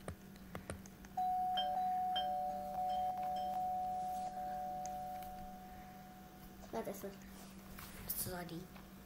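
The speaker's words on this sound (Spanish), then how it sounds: "Le voy a tocar el timbre." Doorbell chime in the Roblox video game, a single sustained electronic tone over a steady background hum, followed by brief clicks near the end.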